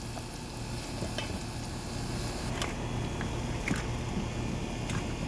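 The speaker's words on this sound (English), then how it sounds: "As you can see, the oils become very brown, very orange from all this lobster cooking" Lobster deep frying in oil that has turned brown and orange. It gives a steady, close sizzle with scattered crackles and pops throughout, and no voices.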